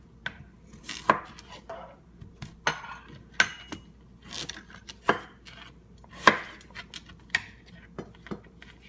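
A child chops food with a dull, blunt knife on a board while preparing a meat and vegetable clay pot dish, producing repeated irregular sharp knocks and clinks at close range, with no talking.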